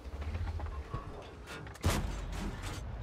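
A single tank cannon shot from a leKpz M 41 90 mm light tank in World of Tanks, a loud boom midway through over a low engine rumble and scattered mechanical clatter.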